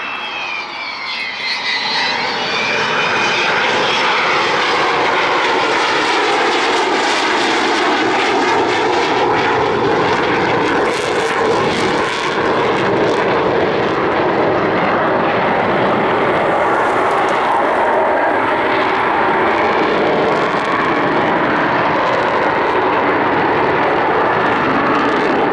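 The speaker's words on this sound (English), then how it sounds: "wait for the sound as those Bristol Olympus engines spool up" The Avro Vulcan XH558 bomber's Bristol Olympus jet engines spool up loud and close on its final gear-down pass at an airshow, a continuous roaring howl with shifting whine that swells and holds throughout.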